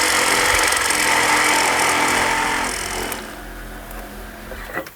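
A Milwaukee Sawzall reciprocating saw fitted with a demolition blade cuts through roof rafters, giving a loud, close, continuous buzzing rasp that eases off partway through and trails into quieter handling noise.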